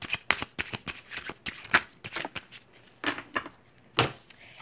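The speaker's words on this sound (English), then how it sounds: "I am going to get a couple of cards from the Healing Stars Submerged deck" A deck of oracle cards being shuffled up close, a rapid series of crisp riffling slaps and flicks in uneven bursts, fairly quiet with no talk.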